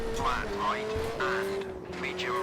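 A rally car in Richard Burns Rally is driven downhill through a tight corner in second gear, its handbrake kicking the rear loose. A steady, buzzing engine drone runs throughout, close and loud, with squealing tyre skids on top.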